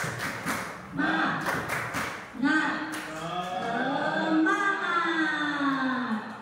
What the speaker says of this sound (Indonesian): itu tepuk semangat versi lama